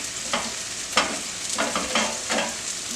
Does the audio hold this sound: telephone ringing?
no